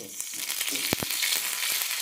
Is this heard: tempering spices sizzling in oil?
yes